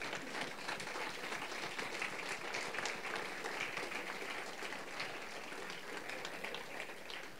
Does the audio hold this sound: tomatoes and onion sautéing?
no